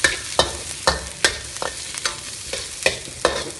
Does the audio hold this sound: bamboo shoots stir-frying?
yes